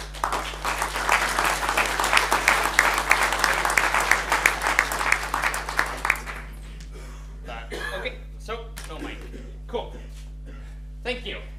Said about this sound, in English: Warm round of applause for Leif.